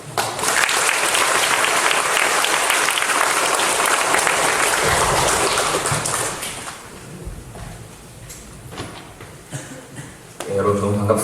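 Congregation applause in a church service welcoming a missionary back from the Amazon, a loud, dense burst of clapping for about six seconds that fades into quieter room noise before a voice begins speaking.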